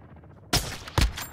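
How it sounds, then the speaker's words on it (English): Two sharp gunshots in the Call of Duty DMZ video game, loud and close, about half a second apart after a low hum. "Someone shooting in my direction here."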